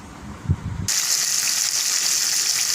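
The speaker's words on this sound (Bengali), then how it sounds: "মাছগুলো অল্প অল্প করে ভেজে নিচ্ছি একসাথে তো বেশি মাছ ভাজা যাবে না কড়াইতে" Rohu fish pieces frying in oil in a pan, a loud steady sizzle bursting in suddenly after a few soft knocks and then holding at an even hiss, close up.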